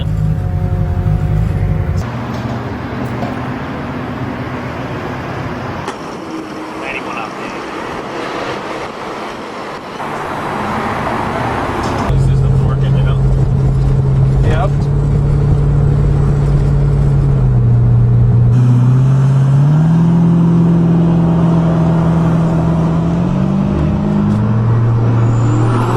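A 1650 HP Mazda RX7 sleeper running on stock gas, a loud continuous engine drone heard from close up, dipping quieter for a stretch and then rising into a steadier rumble with a wavering tone as it drives.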